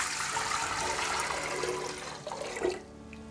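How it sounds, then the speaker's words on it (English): Two quarts of water poured into a pot of ground spices for chai, a steady rushing, splashing stream that stays loud and close, then tapers off near the end. "And we're going to put 2 quarts of water in with the spices."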